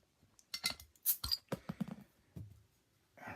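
Founders porter beer bottle opened close by: a sharp cap pop and clink followed by small glassy taps and rattles, quiet, with no talk.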